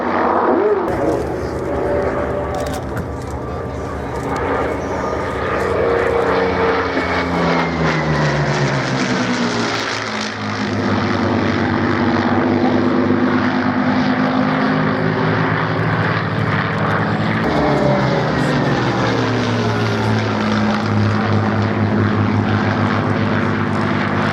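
Vintage 1944-era propeller aircraft at the Shoreham Airshow, a steady loud engine drone with shifting pitch as they pass in front, continuous throughout, with a commentator talking over it.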